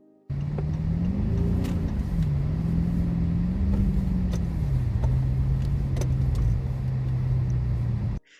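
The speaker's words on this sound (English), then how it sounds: "Shuvi is in the snow and he starts driving crazy" Video game car engine roaring continuously as the vehicle is driven wildly through snow, loud and close with pitch rising and falling as it revs and slides, no talk over it.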